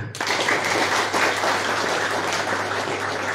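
A gathering at a religious study campus anniversary breaks into applause. The hall-wide clapping starts abruptly and holds steady and full for a few seconds.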